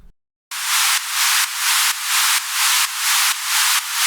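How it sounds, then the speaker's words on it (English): Bright white noise sidechained to a kick drum pumps rhythmically, ducking and swelling about twice per second in a steady, even pulse after a short silence. "a sidechain noise, which is basically just a white noise playing, but the volume ducks every time the kick hits"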